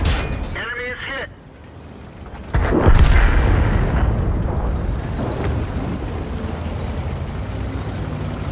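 Tank cannon fire in a T-34 battle video game: a loud booming blast erupts mid-clip, with rumbling battle ambience continuing around it and a voice speaking briefly near the start.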